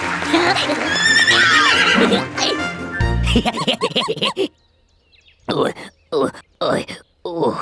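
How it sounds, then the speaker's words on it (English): A cartoon horse whinnies loudly alongside clip-clopping hooves and bright musical sounds, with animated voices chattering in between. "you are a brave knight riding to the rescue on his trusty horse"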